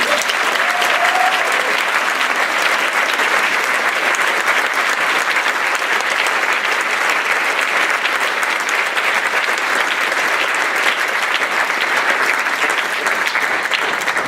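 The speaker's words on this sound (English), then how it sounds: "Let's have another big round of applause." Sustained, steady audience applause fills a live evening event at Georgetown University, a dense wash of clapping hands that holds at an even loudness throughout without any talk breaking through.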